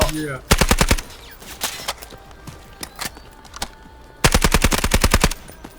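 Automatic gunfire in the shooter game Delta Force: two long rapid bursts of machine-gun fire near the start and end, with scattered single shots and faint footsteps between them.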